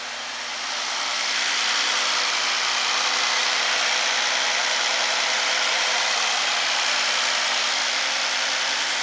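A 2018 Mercedes S560 with the 4.0 engine, under diagnosis for timing codes, runs with a steady broadband whooshing hum that swells in during the first second and then holds constant, with no talking.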